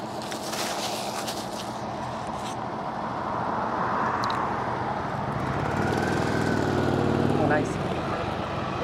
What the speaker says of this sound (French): Il y a un camion poubelle qui va partir.